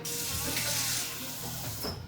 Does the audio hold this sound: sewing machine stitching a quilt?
no